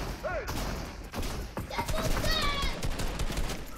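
Gunfire in the Fortnite video game, with rapid clustered shots and bursts of automatic fire crackling through the stretch while players talk excitedly over it.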